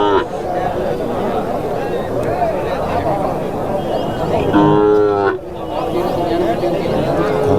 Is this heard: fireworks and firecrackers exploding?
no